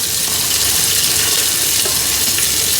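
Chopped onion sizzling in hot oil in a pan, a steady broad hiss of frying that runs continuously and close up, with no talk over it.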